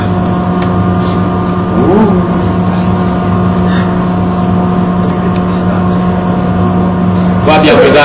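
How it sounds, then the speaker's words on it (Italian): A hydroelectric turbine spins a generator at the Fenestrelle power station, giving a loud, steady machine hum with strong tonal drones that hold for the whole stretch, while faint voices come and go in the background. "La turbina col suo asse chiaramente mette in rotazione il generatore."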